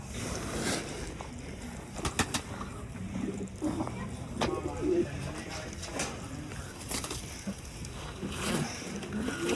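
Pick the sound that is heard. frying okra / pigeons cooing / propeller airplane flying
pigeons cooing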